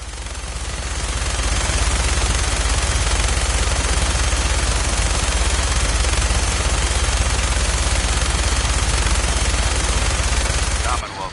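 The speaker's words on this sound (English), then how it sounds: "That minigun in front of you is loaded and ready to fire" Minigun fired from a helicopter in Fallout 4, a dense continuous roaring burst of rapid shots that ramps up, holds loud and unbroken for about ten seconds, then cuts off abruptly.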